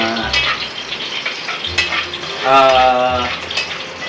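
Fried rice sizzles steadily in a hot pan while a utensil stirs and scrapes, with metal clinks against the pan, loud and close throughout.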